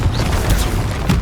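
A Confringo blasting curse goes off in Hogwarts Legacy as a short, loud, booming burst with a deep rumble.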